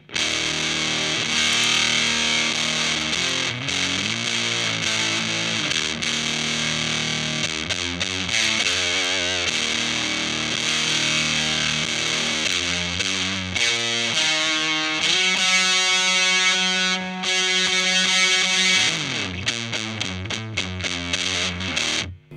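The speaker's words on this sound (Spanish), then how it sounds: "Este pedal es un fuzz o fuzz, como quieren llamarlo, que es una distorsión muy distorsionada." An electric guitar on its bridge pickup plays through an Earthquaker Devices Erupter fuzz pedal, giving a thick, heavily distorted tone with sustained chords and choppy riffs, loud and with no voice over it.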